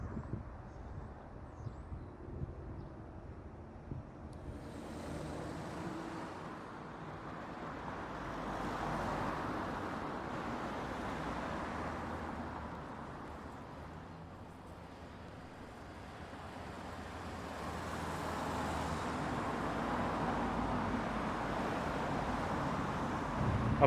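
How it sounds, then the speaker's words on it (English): Steady low roadway rumble from heavy trucks passing on a nearby interstate, swelling and fading continuously with some wind buffeting, no talking. "a lot of noisy trucks because we are right off of an interstate."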